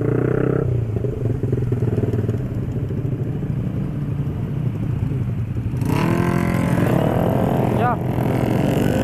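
A motorcycle fitted with a loud aftermarket exhaust roars steadily nearby, its engine note shifting and rising partway through, while a voice talks over the noise.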